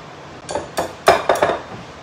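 A flat whisk strikes and scrapes a bowl while mixing a butter, sugar and nut filling, giving four or five close, distinct clinks and knocks in quick succession.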